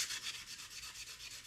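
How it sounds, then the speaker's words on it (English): Sanding the cut edge of a Ford Bronco wheel beauty ring, a quiet, close rhythmic hiss of abrasive strokes repeating back and forth about every tenth of a second. "keep sanding it down until it's a nice smooth transition."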